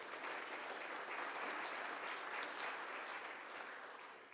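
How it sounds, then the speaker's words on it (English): Applause for Stephanie at a fire department wildfire town hall, an even round of clapping from the gathered crowd that holds steady and then fades toward the end. "let's give her a round of applause because she rocks."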